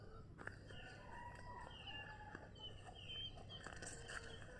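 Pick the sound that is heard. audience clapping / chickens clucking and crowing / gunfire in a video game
chickens clucking and crowing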